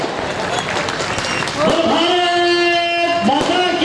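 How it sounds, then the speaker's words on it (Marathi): Audience applause at a ceremony honouring a relative and handing approval certificates to unorganised women domestic workers: a dense burst of clapping for about a second and a half, followed by sustained tonal voices or music ringing over the crowd. "आपण उभा राहून टाळ्या वाजवल्या पाहिजे"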